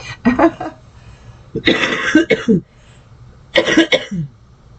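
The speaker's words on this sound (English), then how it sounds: "I apologize if I'm coughing in your ear" A person coughs in three separate bursts, each a rough cluster of hacking coughs, close to the mic with short pauses between.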